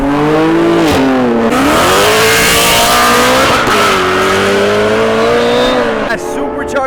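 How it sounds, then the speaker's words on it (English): A supercharged BMW M3 engine revs hard and loud at close range, its pitch climbing, dipping and surging for about six seconds with a supercharger whine on top before it cuts off abruptly. "That supercharger sounds crazy."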